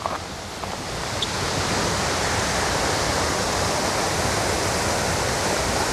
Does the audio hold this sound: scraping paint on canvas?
no